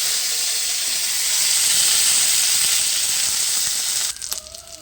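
Neem leaves fry in a wok with a loud, steady sizzling hiss that holds for several seconds, then breaks into softer crackles.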